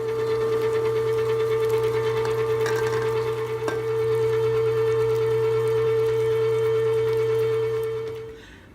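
An electric mixer beats cookie dough with added egg and vanilla, humming as a steady, loud, close whir with a constant pitch before winding down and stopping at the end.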